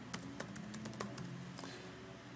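Keyboard typing during text editing in Adobe Premiere, a brisk run of sharp clicks of uneven rhythm with several louder taps, close and clear over a faint steady room hum.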